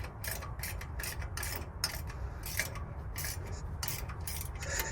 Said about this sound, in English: Now I'm going to use a wrench to snug it up.